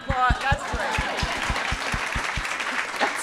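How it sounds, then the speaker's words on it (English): Audience applause at a book reading, a steady run of claps heard close and clear for a few seconds, with a voice briefly talking over the start. "Let's have an applause."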